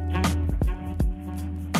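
Music track in Premiere Pro with an exponential fade effect applied: a loud, steady bed of sustained tones with repeated strong low-frequency bass hits, playing alone without voices.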